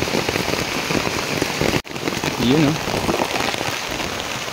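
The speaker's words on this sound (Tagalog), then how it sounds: "inabot na tayo ng ulan." Steady rain pattering on surfaces all around in a rural Philippine province, dense and close, with a brief interruption and a person speaking a few words in Tagalog over it.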